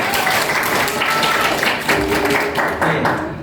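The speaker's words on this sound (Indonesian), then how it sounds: "Oke, tepuk tangan ya." Students in a classroom give a steady round of hand clapping that holds at an even level throughout and tapers slightly at the end.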